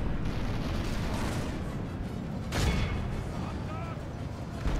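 Empire artillery pounding trolls in a Warhammer battle against orcs and goblins, a thick rumbling wall of gunfire and explosions with one heavier boom midway, continuous and loud.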